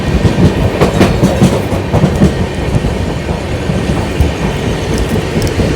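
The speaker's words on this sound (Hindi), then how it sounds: "अभी हमारी गाड़ी सूरत जंक्शन पहुंच रही है।" The 22943 Daund–Indore SF Express rumbles steadily along the rails near Surat Junction, wheels clattering in a loud continuous rhythm with faint squeals, heard up close with no talking.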